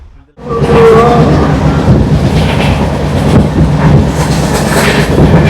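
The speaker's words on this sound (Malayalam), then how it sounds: "ട്രെയിൻ താണ്ട് ആലപ്പുഴ സ്റ്റേഷനിലെത്തി" A passenger train rumbles steadily along the rails near Alappuzha station in Kerala, a loud continuous roar with faint rhythmic clacking, heard close from on board.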